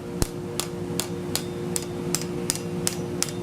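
A hammer strikes a hot steel bar, driving it through a pass-through eye on an anvil in eight sharp, ringing blows at an even pace of roughly two per second, close and clear.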